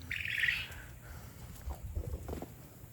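High, thin chirps from young birds cluster at the start, followed by softer scattered peeps and light tapping sounds nearby.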